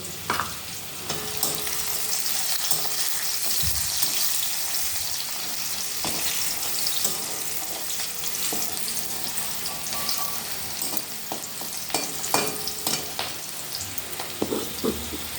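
A ground spice paste hits hot oil in a pan with a continuous bright sizzle and crackle, and scattered clinks and stirring knocks run through it over about fifteen seconds without speech.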